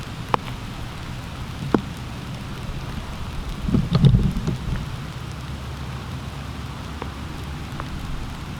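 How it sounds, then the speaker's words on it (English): Light rain sprinkling outdoors beneath a tree, a soft steady patter with a few sharper drips and a brief low rumble partway through, with no voices. "It's just kind of sprinkling right now."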